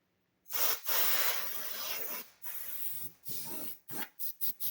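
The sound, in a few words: spraying cleaner on a gaming PC and keyboard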